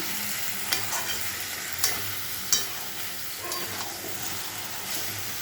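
Cabbage cooked with a fish head is stirred and fried in a pan, a constant sizzle broken by a few sharp scrapes and clacks of the spoon against the pan.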